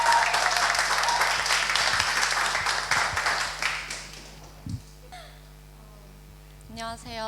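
Audience applause at a Korean church youth gathering welcoming a speaker to the front; steady clapping that fades out over several seconds, followed by brief faint voices.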